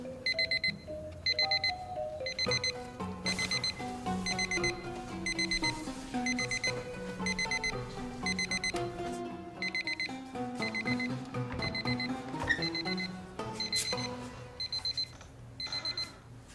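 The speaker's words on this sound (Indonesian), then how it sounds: "Kenapa gue pakai bawa alarm juga?" An alarm clock rings steadily with a repeating electronic beeping melody, loud and close, running continuously with only brief gaps and no talk over it.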